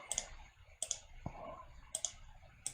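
A computer mouse clicks sharply four times at roughly even spacing while elements are erased in the KiCad schematic editor, quiet and close with a faint soft thud between clicks.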